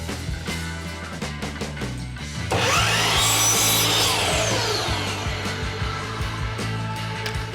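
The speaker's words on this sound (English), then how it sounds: "Take 2 of those 48 inch long strips and cut them right down the middle" A power saw rips down the middle of 48-inch plywood strips for a router sled kit. The motor hums loudly, then the blade bites in about two seconds later with a sustained, whining cut that tapers off near the end.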